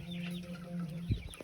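Broiler chickens clucking on a farm, a soft low clucking drone with a couple of sharper clucks near the end, faint and close.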